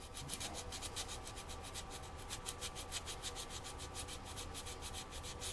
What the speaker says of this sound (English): And we're gonna get this sanded down, kind of get it square.